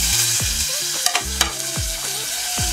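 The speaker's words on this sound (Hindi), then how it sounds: "तो अच्छे से जब अदरक लहसुन अच्छे से भून जाएगा" Chopped ginger and garlic frying in hot oil with cumin, a constant loud sizzle close by, broken by several sharp scraping strokes of a stirring spoon against the pan.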